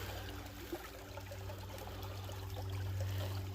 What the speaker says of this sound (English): Just pan it in here in the sluice real quick.